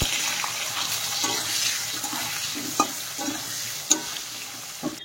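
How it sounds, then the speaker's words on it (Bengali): Potatoes fry in a pan with salt and turmeric, a continuous sizzle under scraping stirs and a few clear utensil knocks. "মাছগুলো সব ভাজা হয়ে গেছে, এখন আমি আলু ভেজে নেব।"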